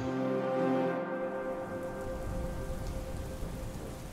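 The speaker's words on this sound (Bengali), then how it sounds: "বাইরে জোরে মেঘের গর্জন হচ্ছিল।" Heavy rain pours down steadily during a night thunderstorm, with a low rumble of thunder at the start and faint tones fading out under the continuous downpour.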